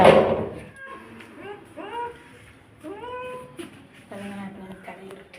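A cat cries in pain after an injection, with a series of drawn-out, wavering meows of rising and falling pitch, close and moderately loud, following a brief loud noise at the start.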